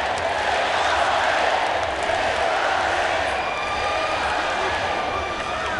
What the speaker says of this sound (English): it sounds like a football crowd here in Singapore for Tiffany Teo